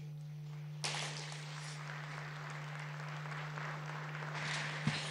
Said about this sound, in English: Another round of applause for President Zewde